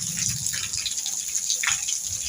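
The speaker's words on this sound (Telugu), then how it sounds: "పైనుంచి అయితే బిల్డింగ్ పైనుంచి అయితే వాటర్ అయితే వస్తున్నాయి." Rainwater pours off a village building roof at night during heavy rain, a steady splashing wash with spattering bursts, close and continuous without pause.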